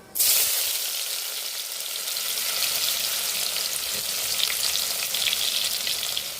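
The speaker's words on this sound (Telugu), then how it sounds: "ఆయిల్ బాగా వేడై మంచి స్మెల్ వస్తుంది ఉల్లిపాయ వేసుకుందాం" Sliced onions drop into hot oil in a kadai with a sudden loud burst. A dense, steady sizzle follows close by and stays strong to the end, with no talking.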